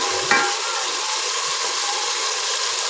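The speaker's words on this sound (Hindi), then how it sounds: "इनको बस तेज़ आंच पे भून लेंगे।" Tomato slices frying over high heat in a pan for spiced potatoes, giving a steady, dense sizzle throughout with one brief clink near the start.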